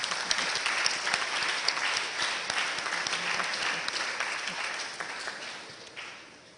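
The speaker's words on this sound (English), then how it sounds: "A round of applause, please." Sustained audience applause fills a memorial lecture hall, dense steady clapping from a large crowd that holds for several seconds before gradually tapering off at the end.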